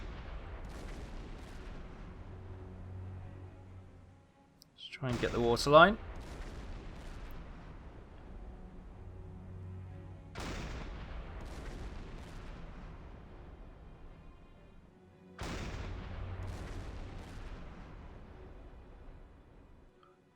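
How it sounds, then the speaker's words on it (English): Deep booming explosions on an oil tanker in the video game Silent Hunter 5 go off every few seconds, with someone speaking briefly between the blasts. "Can hear explosions happening on the oil tanker."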